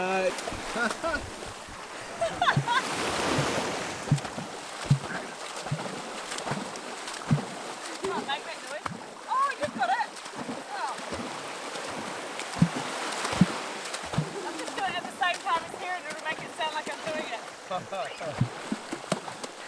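Rhythmic splashing and slapping of water in repeated pulses, with people's voices and chatter mixed in throughout.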